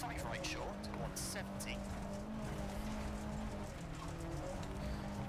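A rally car in EA WRC, Historic League on the Sardegna stage, engine droning continuously with tyre and gravel noise and brief bursts, while someone talks over it.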